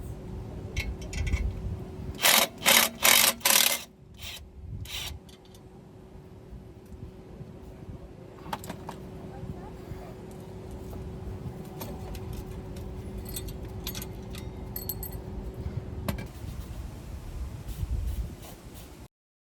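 Clutch pressure plate being removed from a 2012-15 Honda Civic Si, several sharp metallic clinks and rattles early on, then quieter handling noises over a steady hum.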